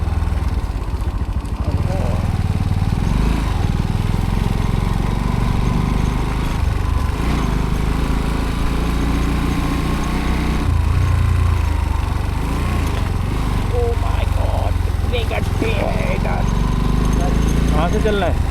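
A motorcycle engine with a freshly filled fuel tank runs steadily, close and loud, with a constant rumbling drone throughout as people talk over it.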